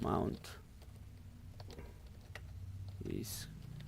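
Soft, scattered clicks of computer keyboard typing, close and quiet, with brief bursts of a voice at the start and end.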